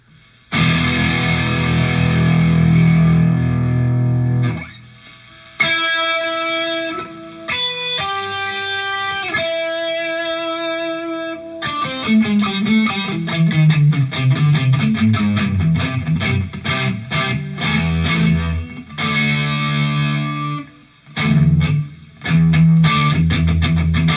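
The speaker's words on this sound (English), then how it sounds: "That's one distortion." An electric guitar played through the distortion setting of a LEKATO Tank-G effects processor, chords and single notes crunching and buzzing with gritty sustain, pausing briefly between phrases.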